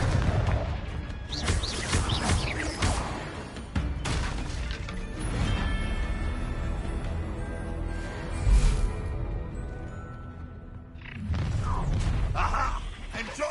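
Confringo fire spells burst in Hogwarts Legacy combat, loud blasts and crashing impacts repeating amid magical effects and game ambience.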